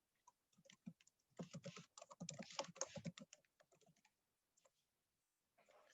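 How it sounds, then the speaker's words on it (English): Fingers type on a computer keyboard in quiet, irregular bursts of clicks that cluster densely in the middle and thin out into a few scattered taps, with near-silent gaps between them. "Hold on, let me type it out."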